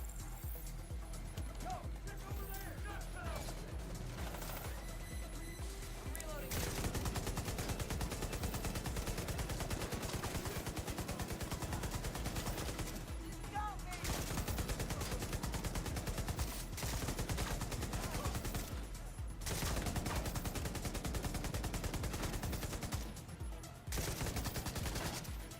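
Sustained light machine gun fire from The Division 2, long rapid bursts of loud automatic shots with brief pauses for reloading.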